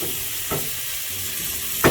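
Rice frying in coconut oil and half a stick of butter, a dense, steady sizzle close up, with a couple of brief stirring scrapes.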